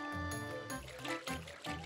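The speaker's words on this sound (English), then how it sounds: "I hear that I'm walking in the water." Splashy footsteps as Mario wades through water in Super Mario Sunshine, a soft liquid sloshing and trickling under game music, quiet and continuous with no talking.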